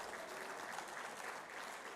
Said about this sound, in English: Can we do the clap for the international community?